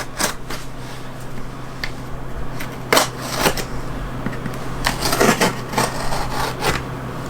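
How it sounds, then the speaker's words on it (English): Mail packages being cut open, with a run of scratchy slicing and rustling bursts of cardboard and packing at close range, irregular and fairly loud, with no talk. "I'll just cut them both open real quick"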